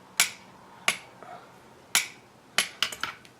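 A torque wrench clicks while oil cooler bolts on a Piper Super Cub Widebody are tightened, several sharp isolated clicks spaced unevenly and close by, a few coming in a quick cluster near the end, with no talking.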